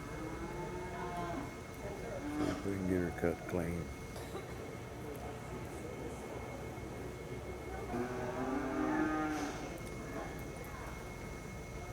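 Cattle low and moo in drawn-out calls at a cutting horse competition, with two loud bellows standing out over steady arena noise while someone talks over them.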